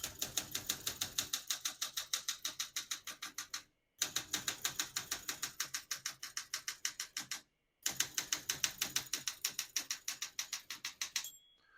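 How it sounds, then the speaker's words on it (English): Rapid mechanical keystrokes on a 1968 Olympia SM9 portable typewriter, crisp close clacks in three bursts separated by brief pauses, with a small bell ding near the end. "Once you hear the bell, you're near the end of the margin."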